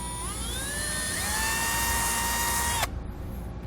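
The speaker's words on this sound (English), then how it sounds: "Now for our main hole, we're going to drill a" A power drill bores a 25/64 hole during installation of a Redarc Tow-Pro Elite trailer brake controller on a 2018 Jeep JK Wrangler, whining loudly and rising in pitch for nearly three seconds before abruptly stopping.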